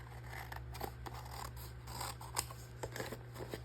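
Scissors snip through paper for a handmade paper craft, a faint, close series of crisp cuts and small rustles at an irregular pace over a steady low hum.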